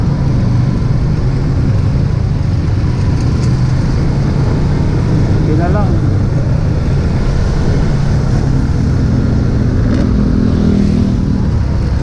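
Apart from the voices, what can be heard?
road traffic heard while riding a Honda GTR 150 motorcycle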